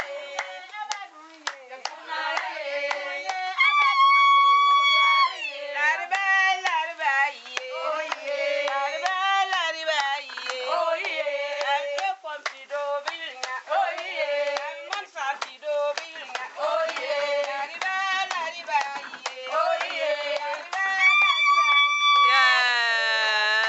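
A group in northern Ghana sings a Dagbani song while clapping their hands, crisp repeated claps marking a steady beat under the strong, sustained singing.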